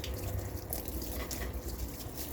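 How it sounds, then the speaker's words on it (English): Water splashes and patters steadily from a hose or can onto garden plants in front of a house, a continuous close, soft rushing with no talk. "Just need to do some watering."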